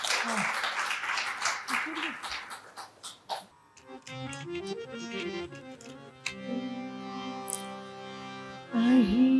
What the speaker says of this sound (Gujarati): એકવાર જોરદાર તાળીઓથી અલ્પાબેનને વધાવીએ